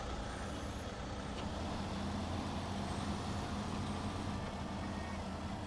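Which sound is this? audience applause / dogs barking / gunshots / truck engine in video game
truck engine in video game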